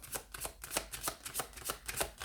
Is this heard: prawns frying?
no